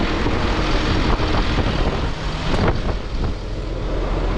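Wind gusts across an open field during pea sowing, a loud, continuous roaring buffet that swells and eases slightly, with no voices over it.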